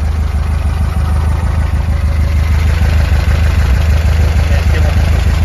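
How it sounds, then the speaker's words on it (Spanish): A modified air-cooled engine in a VW 1303 Super Beetle convertible idles with an A1 exhaust, giving a steady, loud, low rumbling drone that holds even and close throughout. "Qué bonito se escucha el escape"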